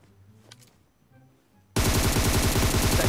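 PUBG Mobile gunfire: after a quiet stretch with faint clicks, a loud, sustained burst of rapid automatic shots erupts suddenly and continues to the end.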